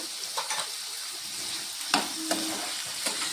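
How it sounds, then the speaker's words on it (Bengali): Potatoes sizzle steadily in a hot pan, with a few sharp scrapes and knocks of stirring cutting through the constant frying hiss. "আলুতে নুন দিয়ে ভালো করে ভেজে নেব"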